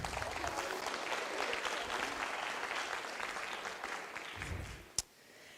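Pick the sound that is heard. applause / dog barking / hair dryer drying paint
applause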